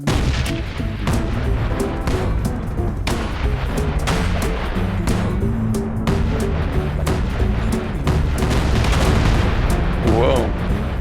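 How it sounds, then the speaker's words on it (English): Weapons fire and explosions in Space Engineers, a steady barrage of booms and gunfire rumbling loudly throughout with no break, dense and continuous. "Now let's try the weapons without the EMPs to start with."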